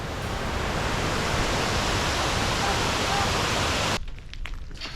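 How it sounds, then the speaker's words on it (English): Pangua Waterfall in rural Vietnam roars as a loud, steady rush of falling water close by, then cuts off abruptly near the end, leaving quieter ambience. "This is the most beautiful waterfall I've ever seen in Asia."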